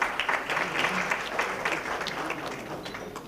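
An audience at a matchmaking convention in a Mumbai hotel hall applauds with a full, steady wash of clapping that tapers slightly toward the end, with no voices audible.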